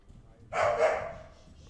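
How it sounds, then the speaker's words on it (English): A single dog barks once from the room, a short, fairly faint woof that fades quickly against a quiet background. "my dog is back"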